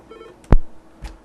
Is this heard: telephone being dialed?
yes